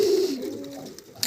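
Pigeons cooing inside a dovecote, a close, soft low coo trailing off, followed by a faint rustle, with no one speaking.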